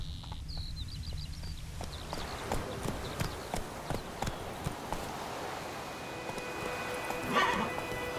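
Geralt's horse Roach gallops in The Witcher 3, hooves clip-clopping in a steady, fairly quiet rhythm among other game sounds, with a brief yelp-like noise near the end.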